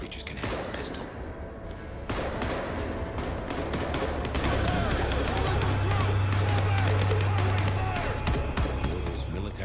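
Rapid bursts of gunfire from Vampire: The Masquerade - Bloodlines 2 crackle over a rumbling game soundscape with dense thuds and slams. The firing is sustained and loud, a little distant, with no talking over it.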